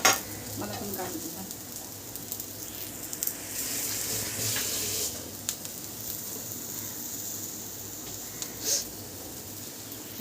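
Sliced onion and grated coconut roasting in a pan on a home stove give a soft, continuous sizzle with occasional scraping stirs and light clinks of utensils.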